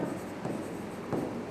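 Chalk or marker writing an example on a classroom board, a few short scratchy strokes close by, quiet and without talk.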